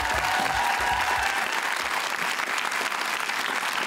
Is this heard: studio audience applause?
yes